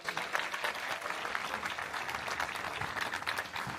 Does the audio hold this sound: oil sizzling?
no